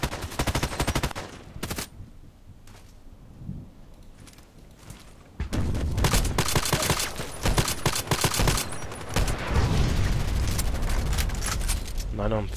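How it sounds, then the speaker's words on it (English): Rapid bursts of EBR rifle fire in a video game crackle loudly after a quieter stretch, with dense repeated shots and a voice speaking intermittently through the gunfire. "Still shooting."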